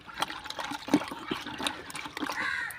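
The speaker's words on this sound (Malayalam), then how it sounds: "ഇനി അര ലിറ്റർ കഞ്ഞിവെള്ളം ഒഴിക്കുക" Starchy rice water is poured into a mixture, producing uneven trickling and splashing close by, with small sloshes and a steadier stream toward the end.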